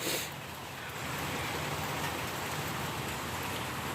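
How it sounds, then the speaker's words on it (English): Steady rain falls outside on a cold morning, a dense even hiss of drops on surfaces that runs unbroken and fairly close, with no voices. "it's raining outside and you know, it's getting colder by the minute it rains"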